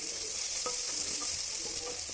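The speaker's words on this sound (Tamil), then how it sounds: "அப்போ இடையில அடி பிடிக்காமல் நல்லா கிளறி விட்டுக்கோங்க." Tomato masala frying in oil in a pan while being stirred, a steady close sizzle with soft scraping strokes.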